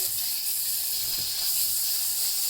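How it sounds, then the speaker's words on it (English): Butter melting over medium heat in a pan for mac and cheese, giving a steady soft sizzle and hiss that runs evenly throughout at moderate, close level with no talk. "melt the butter on a medium heat in the other pan"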